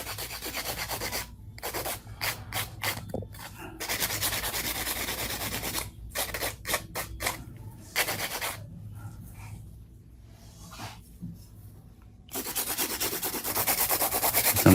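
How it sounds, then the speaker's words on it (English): A hand nail file rasps across smooth fingernails in a nail salon, working in circular motions in quick bursts of rubbing strokes, close and fairly loud, broken by short pauses. "Some of these are so smooth I barely have to hand file at all."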